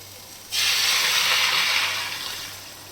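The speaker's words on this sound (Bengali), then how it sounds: "এবার আমি দিয়ে দেবো জল" Water poured into a pan of lightly fried, softened vegetables, bursting into a loud, close hiss and sizzle that starts abruptly and then slowly fades.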